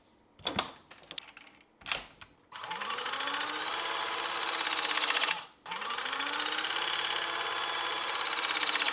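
A battery-powered electric hydraulic crimper squeezes copper lugs onto battery cable: a few sharp clicks and taps first, then a steady loud motor whine that briefly cuts out and restarts, heard close up with no talking.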